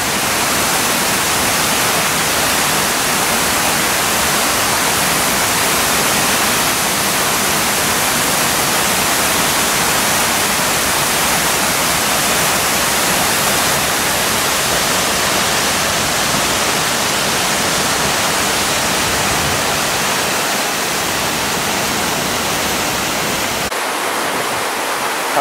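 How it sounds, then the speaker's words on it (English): Water pours over a waterfall dam in a steady, loud, close rushing roar that barely changes for about 25 seconds, then shifts slightly near the end. "It's worth a quick stop here just to take a look at this waterfall dam."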